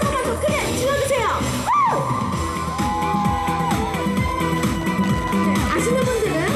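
Crowd at an outdoor Korean kimchi-making culture festival in Seoul shouts and cheers during a singer's encore, a dense, loud wash of voices with whoops and music-like tones running throughout.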